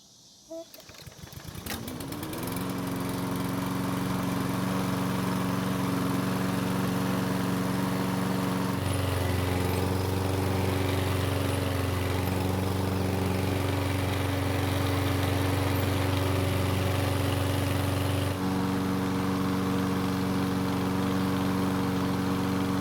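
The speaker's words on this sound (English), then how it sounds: "the mower started without any issues and the self-propel seems to be working quite well" A Toro walk-behind lawn mower, just repaired for a pull rope that yanked back, starts after a brief pull and settles into a steady, loud mid-pitched engine drone that shifts tone twice as it runs, with no voices.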